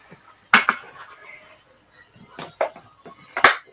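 Pans and cutlery clatter in a home kitchen during cooking of chicken and vegetables, with several sharp metallic clanks and clinks spaced apart, close and loud over a quiet background.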